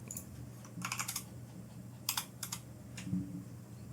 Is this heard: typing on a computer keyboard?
yes